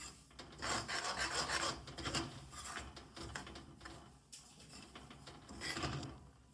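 A spoon scrapes and rasps against a pan while stirring a roasting mixture in ghee for Bhedka no shiro, repeated rubbing strokes close by with no talk.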